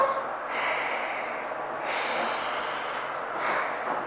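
Alternate-nostril breathing during a Nadi Shodhana yoga exercise: three slow, airy breaths, inhaling and exhaling through the nose, close to the microphone and steady, with no talking.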